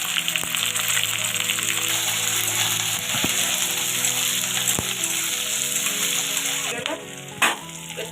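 Garlic cloves, chopped onion and green chillies fry in hot oil with a loud, continuous sizzle and occasional stirring knocks, dipping briefly near the end.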